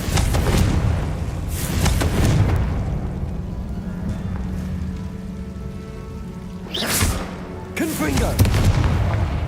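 Fiery spell blasts from the Confringo curse in Hogwarts Legacy, several booming explosive bursts spaced a few seconds apart, crackling and rumbling between hits, with a speaker's voice in the background.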